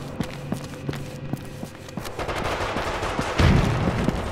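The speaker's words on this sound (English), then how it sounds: "I hear gunfire." Gunfire in Resident Evil Raccoon City co-op, sharp shots in quick irregular bursts, some rapid like automatic fire, over a dense game soundscape with movement and thuds.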